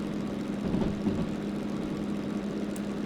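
A DM3 locomotive engine in the train game Derail Valley revs high, close to the red line. It makes a steady, loud, droning hum with a slight rise and fall and no talking.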